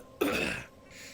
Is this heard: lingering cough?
yes